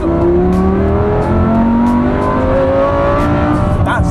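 A powerful Lamborghini engine revs and pulls hard, its pitch rising in sweeps, heard from inside the cabin with windows up, giving a muffled, enclosed tone.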